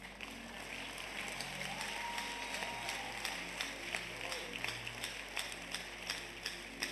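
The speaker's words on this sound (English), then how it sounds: "Clap well." A church audience at a sermon on courtship claps, a mid-level, somewhat distant patter of applause with scattered sharper claps, over a low background hum.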